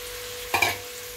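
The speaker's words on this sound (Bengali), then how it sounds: "এবারে আমি গ্রেট করে রাখা কোয়াশটা দিয়ে দিচ্ছি।" Grated squash lands in a pan of frying spices with a short, sudden burst of sizzle and a scrape, rising over a low steady hiss before settling back within a second.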